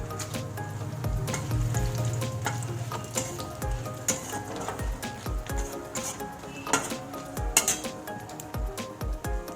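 Dry red chillies and bay leaves frying with cumin in oil for a daliya khichdi, heard as a soft sizzle beneath frequent clinks and taps of a metal pan and spoon, close and moderately loud, with no talk.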